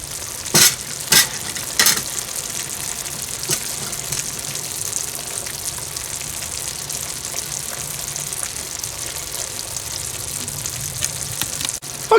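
Vegetables stirred into a simmering oniony pork stew with potatoes, a steady close sizzle and bubbling broken by a few sharp scraping stirs near the start.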